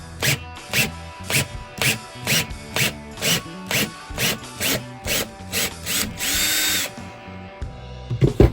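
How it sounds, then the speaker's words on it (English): A power drill extracting a broken-off screw whirs in a rapid series of short bursts, roughly a dozen pulses, then one longer run before stopping, close and fairly loud. "a little dirty hack is to put in the drill"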